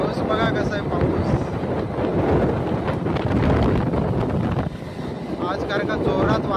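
Strong wind and heavy rain outdoors, a dense, steady roaring wash of wind buffeting and rain noise filling the whole clip, with someone talking over it.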